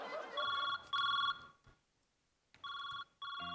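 A telephone rings in repeated bright electronic bursts, four clear pulses separated by short gaps, in a quiet indoor comedy sketch scene with faint background noise between rings.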